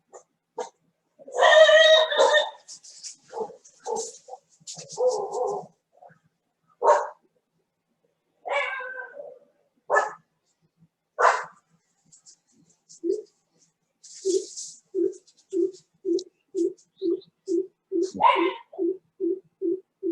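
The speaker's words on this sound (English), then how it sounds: "Seems the dog want to talk." A dog barks indoors in a string of loud, separate outbursts early on, then settles into a fast, even run of short, sharp barks toward the end, with no talk over it.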